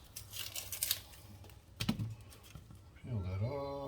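Near, quiet papery crinkling and tearing as onion skin is peeled off, in short rustling bursts, with a brief voice rising at the end.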